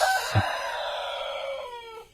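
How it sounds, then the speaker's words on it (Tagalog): A rooster crows once, loud and close, a long drawn-out call that trails off, with no talking. "Ingay naman ng manok"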